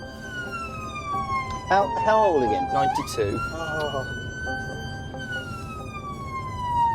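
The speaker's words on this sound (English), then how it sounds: "I've switched on to close combat siren." Ambulance siren switched to a close-range mode, loud and nearby: a sweeping wail that breaks into rapid yelping warbles before settling back into a steady tone, with people talking briefly over it.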